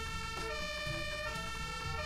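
A vehicle siren in the Brick Rigs sandbox game, a faint, steady electronic wail with a sustained tonal pitch, heard alone and continuous through the short stretch.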